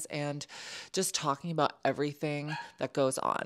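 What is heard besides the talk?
dog barking in the background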